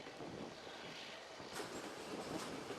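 A train rolling along rails on a route through Alaska, a steady broadband rumble and rattle of railcars with faint wheel clatter, continuous and fairly distant, with no voices.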